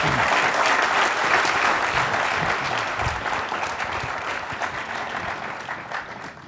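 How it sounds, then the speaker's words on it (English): Sustained audience applause for a public service discussion panel, many hands clapping in a thick, even wash that stays strong throughout and tapers only slightly toward the end, with no voices over it. "would you please join me in a big round of applause for our extraordinary panel."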